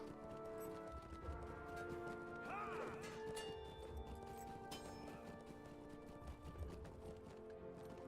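Horse hooves clip-clopping in the Lord of the Rings Online game, a steady rhythmic trot with a brief neigh, under game music and ambient sound.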